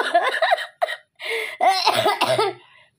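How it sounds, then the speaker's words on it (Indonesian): A person coughs repeatedly in short harsh bursts, close up, with a few brief pauses between fits and no talking. "Gue lagi perang batuk."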